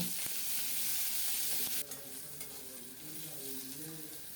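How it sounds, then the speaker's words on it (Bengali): Garlic and green chillies frying in oil, a soft, steady sizzle and crackle with a few scraping stirs, quiet and close. "রসুন আর কাঁচামরিচ সুন্দর মতো ভেজে নেব"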